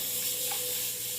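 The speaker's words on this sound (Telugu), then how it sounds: "నూనె వేసి కొంచెం ఇంగు కూడా వేసి వేయించుకోవాలి." Split urad dal, chana dal and peanuts fry in hot oil with asafoetida for a tempering, giving a close, steady, even sizzle with no talking.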